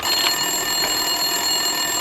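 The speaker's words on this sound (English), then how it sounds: "Winterson's phone was ringing." An office desk phone rings in the Max Payne 2 video game, giving a steady electronic trill that continues unanswered for about two seconds over low room ambience.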